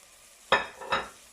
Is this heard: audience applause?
no